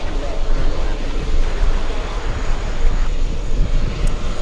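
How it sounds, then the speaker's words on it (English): An Etihad Airbus A350 airliner pushes back at an airport, heard as a loud, steady roar of engine and wind noise that runs unbroken throughout, with no clear voices. "A350 pushing."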